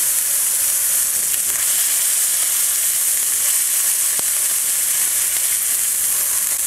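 Salmon fillet cooking in a hot pan on residual heat, giving a steady bright hissing sizzle that holds evenly throughout, close and fairly loud with one faint tap and no talk.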